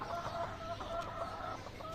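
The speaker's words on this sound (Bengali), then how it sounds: "এই যে আমি নতুন একটা জোড়া দিলাম মুরগি দেশি মুরগি আর এটা হলো মোরগ আর এটা হলো মুরগি" A desi hen and rooster cluck nearby in a quick, repeated series of soft clucks that runs through the whole two seconds, with no one talking.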